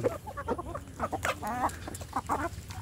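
Free-range village hens (ayam kampung) cluck in repeated short, clipped calls at close range, with a few longer warbling notes mixed in and a low background hum.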